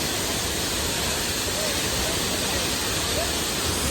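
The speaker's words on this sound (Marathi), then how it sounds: "सुंदर असा धबधबा वाहताना" Dhangar waterfall near Badlapur in monsoon rain pours as a dense, constant roar of rushing water, loud and unbroken throughout.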